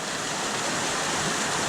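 A waterfall in Muddy Creek Gorge, Pennsylvania, pours down among rocks as a steady, loud, close roar of rushing water with no pauses.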